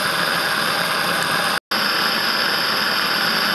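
A steady, continuous mechanical whir of a small Saito model steam engine running evenly, with a brief dropout partway through before the hum resumes unchanged.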